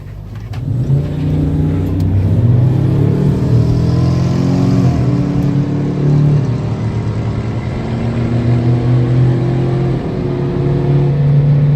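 A 1974 GMC truck with a 4.8 engine accelerates at a drag strip, its loud, steady engine rumble and revving holding strong and close throughout, with no talking.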